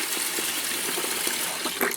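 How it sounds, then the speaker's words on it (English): Rinse water drains from washed rice, pouring and gushing steadily in a close, continuous splashing stream with no voices. "And then drain the water."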